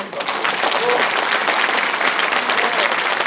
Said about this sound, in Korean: 그래서 박수 한번 쳐주세요